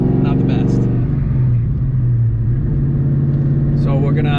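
A 2003 Whipple-supercharged Mustang Cobra drives along with a loud, steady, low engine drone that rises slightly in pitch, while people talk over it.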